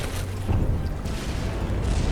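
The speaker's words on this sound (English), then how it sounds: "the secondary explosions going off as the cram pellets explode" Secondary explosions of cram pellets during a From The Depths battleship battle, rendered as a continuous low rumble of dull booms with no clear separate blasts, steady and moderately loud throughout.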